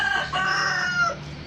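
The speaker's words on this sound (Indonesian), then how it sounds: "Ayamnya berkokok." A rooster crows loudly nearby in a single sustained call, heard outdoors in a garden setting with no talk over it.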